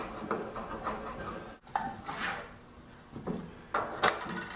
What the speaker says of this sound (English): Now, with a chisel, I'm just going to pare off the corners on the steps between the cuts.